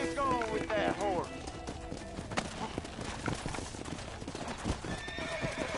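In the video game Red Dead Redemption, a horse's hooves clip-clop in a steady, quick rhythm close by, with a loud whinny near the start, while characters talk over the hoofbeats.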